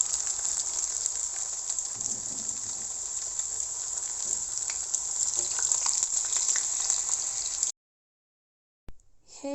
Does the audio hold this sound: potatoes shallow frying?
yes